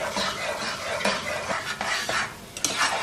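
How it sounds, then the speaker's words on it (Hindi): A spoon stirs saffron semolina halwa in a pan, scraping and clinking against the metal in quick repeated strokes over a soft sizzle, close and fairly loud, with no speech. "और अब इसको चम्मच चलाते हुए पकाएंगे।"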